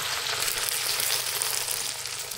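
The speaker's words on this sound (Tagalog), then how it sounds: "Guys, magprito na tayo ng turon." Turon, banana spring rolls, fry in a shallow layer of cooking oil with a dense, steady crackling sizzle, close and continuous with no talking.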